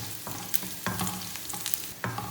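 Cashew nuts and raisins fry in hot fat in a pan, a soft steady sizzle broken by scraping stirs of a spoon roughly every half second, close and alone with no voices.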